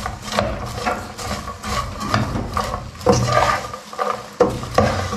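Sweet popcorn stirred in a pan over a low flame, a spoon scraping and rustling through the kernels in repeated strokes over a steady close sizzle, with no talking.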